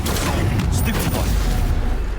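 A Stupefy spell cast in Hogwarts Legacy, a burst of loud, dense magical impact and crackle filling the whole moment, with a boom-like rumble under a busy game soundscape.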